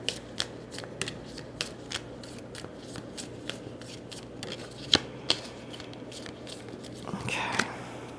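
Tarot cards being shuffled in repeated quick riffles and shuffles, a steady rustling with sharp snaps, fairly close, with no talking.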